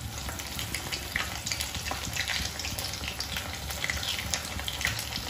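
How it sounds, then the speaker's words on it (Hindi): Paneer pieces shallow frying in hot oil in a pan, a close, continuous crackling sizzle with bursts of spattering pops throughout, heard alone without talk. "अब इसमें ना पनीर को एक एक करके डालेंगे, दूर दूर डालेंगे कि चिपके ना, और इसको ना शेलो फ्राई करेंगे।"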